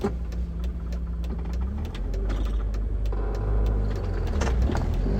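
Racing video game car engine revving through a rev-matched downshift into third gear and then braking, steady loud engine drone with shifting pitch and a brief throttle blip.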